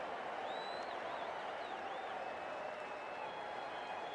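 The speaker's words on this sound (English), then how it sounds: "Please give them a round of applause." Crowd applause from an England versus Australia T20 match in the Cricket 24 video game: a steady, dense wash of clapping and cheering that holds evenly throughout, with faint whistle-like tones drifting above it.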